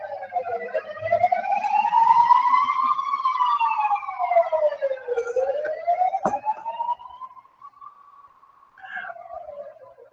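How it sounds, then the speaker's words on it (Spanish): Ambulance sirens pass outside, a loud wailing tone that rises and falls repeatedly, then drops and fades as the vehicles move away. "vamos a esperar a que pase un momento las ambulancias"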